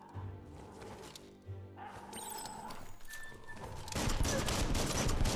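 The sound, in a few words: gunfire in the video game Biomutant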